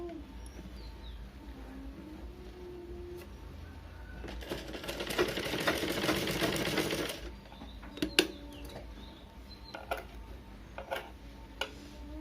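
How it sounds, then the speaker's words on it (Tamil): A sewing machine runs a short burst of stitching along the edge of a blouse lining piece, a rapid mechanical whir lasting a few seconds, then stops, with faint ticks and bird calls in the background. "இந்த மாதிரி லைனிங் பீஸோட ஓரமாக ஒரு படிமான தையல் போடுங்க"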